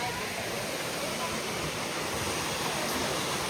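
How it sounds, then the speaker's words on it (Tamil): A steady, roaring rush of water from the Chinna Suruli waterfall in Theni, constant and full, with no pauses. "அருவியில் விழுகிற தண்ணி இந்த சைடு நீட்டாக விழுகுது"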